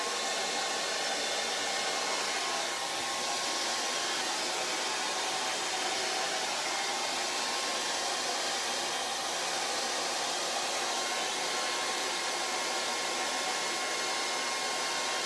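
A hair dryer blows continuously over a charcoal and acrylic flower painting, a steady, fairly loud airy roar with no breaks and no voices throughout.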